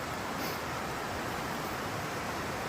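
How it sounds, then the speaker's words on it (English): A mountain stream tributary runs down off a waterfall along the Great Divide Trail, making a faint, steady broadband rush of water with no other sounds over it. "That's the tributary that's coming down off that waterfall."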